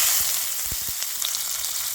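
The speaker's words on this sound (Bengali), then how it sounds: "ওই তেলের মধ্যে দিয়ে দেবো পেঁয়াজ কুচি," Chopped onion hitting hot oil in a wok for a Bengali curry, a loud continuous sizzle up close with a few sharp spits and crackles, no talking.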